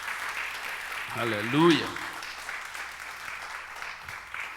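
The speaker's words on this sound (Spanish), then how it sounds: "Dale un aplauso al Señor, pues." A church congregation at a Sunday service applauds, with sustained clapping running beneath a loud voice that calls out briefly.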